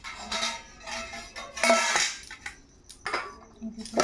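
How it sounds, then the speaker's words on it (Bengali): Rice is served onto a plate with bright metallic clinks and scrapes of a utensil against the dish, coming in several separate close bursts with brief pauses, and a voice faintly in between. "এই দেখো ভাত বেড়ে দিচ্ছি"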